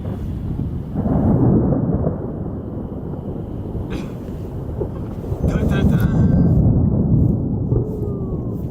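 Thunder rumbles through a lightning storm during spring striped bass fly fishing on open water, with a low rolling roar swelling around the first and sixth seconds over steady wind noise, and voices talking nearby.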